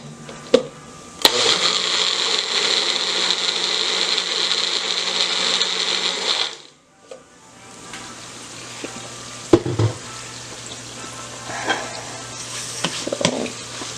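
A blender whirs loudly for about five seconds blending tomatoes for Mexican rice, then stops abruptly, followed by quieter clinks and handling noises.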